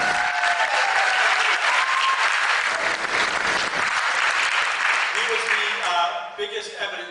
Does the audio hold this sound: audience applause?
yes